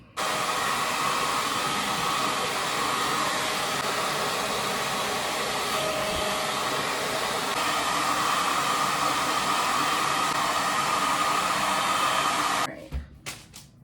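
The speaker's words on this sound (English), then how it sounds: "we're almost done with the blow dry part" A hair dryer blows a steady, loud roar while drying natural hair in an at-home blowout. It runs alone for about twelve seconds, then cuts off abruptly and a few faint handling clicks follow.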